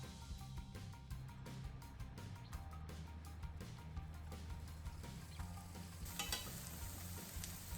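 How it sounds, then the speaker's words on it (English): Pork belly frying in sesame oil over medium heat, a continuous crackling sizzle with rapid spattering pops, joined near the end by a brighter hiss, fairly quiet and steady throughout. "So let's fry. Add sesame oil and pork belly,"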